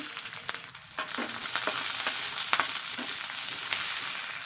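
Green chillies, garlic cloves, dried red chillies, chana dal and coriander seeds fry in hot oil for a raw tomato chutney. A steady, close sizzle runs throughout, with a few soft stirring clicks.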